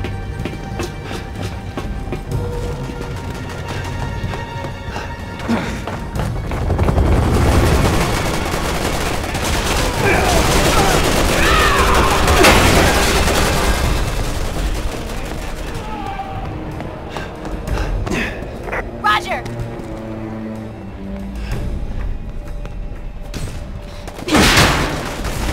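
Gunfire in the Resident Evil 6 video game, loud bursts of automatic shots and explosions over a rumbling game soundscape, with voices talking at times.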